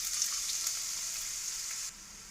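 Onions and green chillies fry in hot oil in a kadai, giving a bright close sizzle that drops suddenly to a quieter hiss near the end of the brief stretch.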